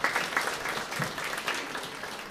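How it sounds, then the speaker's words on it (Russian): A concert audience claps for a singer at a hang drum performance, giving a dense, fairly quiet patter of hand claps that continues steadily throughout. "Вот, давайте похлопаем Галию."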